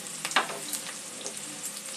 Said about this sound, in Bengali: পেঁয়াজ আর ক্যাপসিকামটা ভেজে নিয়েছি।